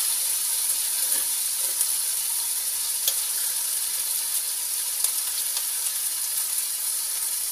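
Turmeric spice paste sizzles steadily in a pan over medium heat while being stirred for a sweet, sour and spicy fish pindang, a constant close hiss broken by occasional light spatula clicks.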